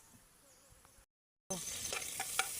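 Ginger hisses and sizzles in cooking oil for a countryside lunch, faint at first, then a brief silence, then a louder crackling fry with a few sharp pops.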